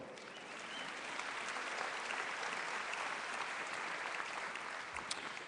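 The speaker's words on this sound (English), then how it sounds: "You may applaud." A commencement audience applauds in a large hall, a dense, even roar of many hands clapping at a distance, sustained for several seconds at moderate level.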